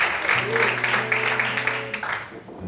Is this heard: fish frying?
no